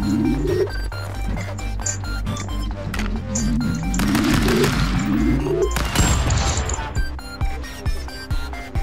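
Gunfire from the video game Stick Fight rattles in rapid bursts and crashes throughout, loud and dense over game music, with occasional talk mixed in.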